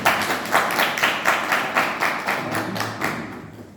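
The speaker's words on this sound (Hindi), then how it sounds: "एक बार जोरदार तालियों से स्वागत कीजिए।" An audience at a university drama department event claps to welcome a guest, the applause falling into loud, regular rhythmic beats, roughly a dozen in a row, close and without talk.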